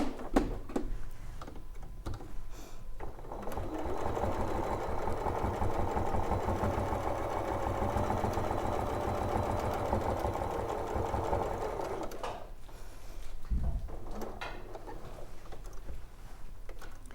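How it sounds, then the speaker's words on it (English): A sewing machine stitches off the end of a quilting fabric piece, its needle running in a fast steady whir for about nine seconds, close, between quieter handling sounds. "I'm sewing right off the end into the excess and then back across"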